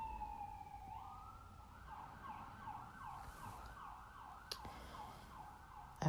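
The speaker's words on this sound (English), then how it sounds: "I hope those sirens are going to go help somebody." A wailing emergency siren cycling up and down steadily, heard at a distance over a low background rumble.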